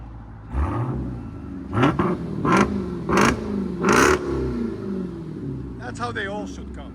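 A 2023 Dodge Durango SRT Hellcat with a 6.2L V8 and straight-pipe exhaust revs loudly in several sharp blips over a rumbling idle, heard up close, with a person talking over it and some speech after the revs.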